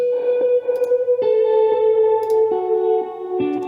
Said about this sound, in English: A lot of reverb, a little bit of delay, chorus.